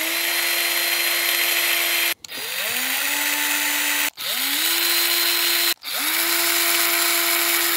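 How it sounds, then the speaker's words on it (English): A power drill fitted with a larger bit deburrs drilled holes in a plate, four loud whining bursts that each spin up, run steadily for about two seconds, and stop abruptly. "Just using a larger drill to deburr them, which I tend to forget."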